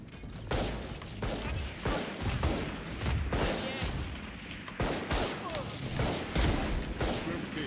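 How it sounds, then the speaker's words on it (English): Missiles launching and firing in a video game, a dense run of rapid explosive bursts and mechanical clatter that goes on continuously, loud and close, with a voice partly under it. "All missiles away."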